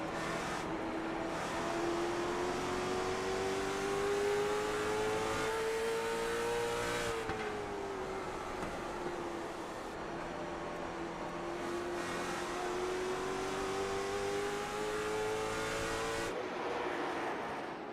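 Race cars on a track roar through sustained acceleration, one engine's pitch climbing steadily, dropping, then climbing again through gear changes, loud and continuous with another engine droning underneath and no voices.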